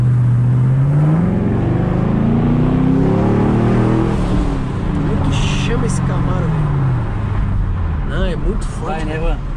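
A Chevrolet Camaro revs hard as it accelerates, giving a loud, rising engine roar close by that sweeps up in pitch and then fades. Excited voices talk over it throughout.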